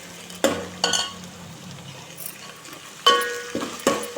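Crushed ginger garlic paste frying in a little oil for bagara rice, giving a soft steady sizzle close by, broken by a few sharp clinks and scrapes of a stirring utensil against the pan.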